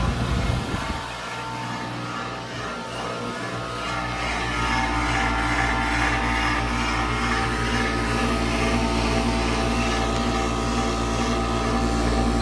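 A 2008 Daikin heat pump runs in cool mode, starting up after a short lull into a loud, steady mechanical drone with a persistent rattle and hum, alone without talk.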